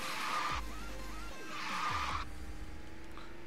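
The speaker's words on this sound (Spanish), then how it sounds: "¿por qué este carro se derrapa tanto?" Two long tire skids from a drifting car in the racing video game Speed Drifters, each a bright screeching squeal over a low engine drone, separated by a short gap and ending in a quieter rumble.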